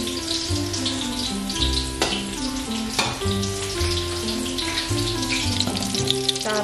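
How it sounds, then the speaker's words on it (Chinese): Pork pieces frying slowly in oil over low heat for sweet and sour pork, giving a steady close sizzle and bubbling throughout, with music playing over it. "炸到金黃色喲。 我細火炸，慢慢炸"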